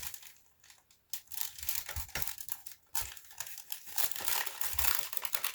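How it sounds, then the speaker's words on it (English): Masking tape crinkling and tearing as it is pulled and pressed over tin foil artwork, a close, irregular run of crackles and rips with brief pauses between strips. "Now I'm going to use some masking tape to hold it all together."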